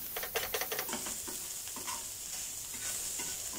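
Cooked chicken pieces with salt are stirred on a hot tawa, with scraping utensil strokes at the start over a steady sizzle of frying.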